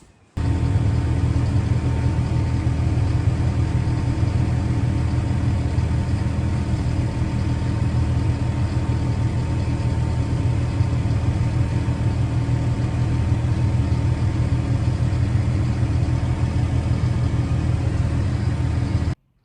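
A Massey Ferguson tractor engine runs steadily at close range for the whole stretch, a loud, even low rumble with no pauses and no talking.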